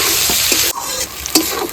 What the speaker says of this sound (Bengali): পেঁয়াজটা একটু লাল ভাজা হবে